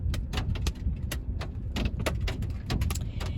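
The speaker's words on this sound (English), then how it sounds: "It's hailing outside my car." Hail drumming on a parked car from inside, a dense scatter of sharp irregular ticks and taps on the roof and glass, fairly faint and continuous, no talk.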